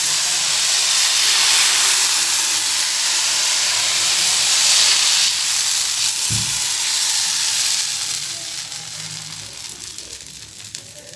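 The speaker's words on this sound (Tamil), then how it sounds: "நல்லா கல் வந்து சூடாகணும். இப்போ வந்து கொஞ்சமாக மாவு கொஞ்சம் ஊற்றிட்டு" Appam batter poured onto a hot oiled pan gives a steady, loud frying sizzle and hiss that holds for several seconds, then eases slightly toward the end, with a brief low thump midway.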